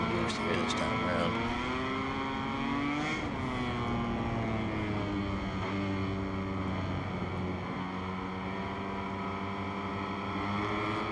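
Engine noise from a motorcycle in MotoGP 23 as the rider uses the rear brake, the revs rising and falling in a continuous whine with tones sliding downward, under someone talking throughout.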